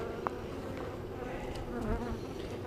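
Honey bees buzz around an opened hive, a steady low droning swarm heard close with no one speaking.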